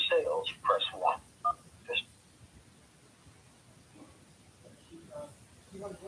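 A phone keypad sends a quick run of loud dialing beeps into an automated menu for the Toyota dealership sales line in Braintree. The tones fill the first two seconds, then give way to a quiet line with faint voices.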